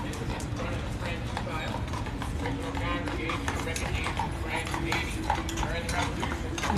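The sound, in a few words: horse-drawn tour carriage, hooves clip-clopping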